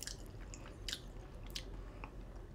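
Close-up mouthfuls of kimchi and ramen, with a few crisp bites and soft wet chewing sounds spread over a couple of seconds, and no talking.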